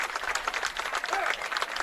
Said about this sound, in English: fans here are applauding Braden as they're letting him into the unit